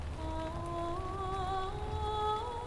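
Steady rain patters as background ambience in the online game Lord of the Rings Online, a soft continuous wash, faint and even, with a sustained musical tone drifting above it.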